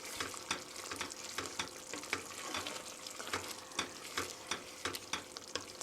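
Mapo tofu stirred in a hot pan after sesame oil is added, rhythmic scraping strokes repeating about twice a second over a soft bubbling sizzle, fairly quiet, no voices.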